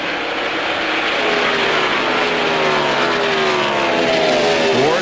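NASCAR race cars, Ward Burton's Pontiac among them, roaring around Pocono in 2000, a loud continuous engine drone with pitch sweeping as the cars pass, steady and dense throughout.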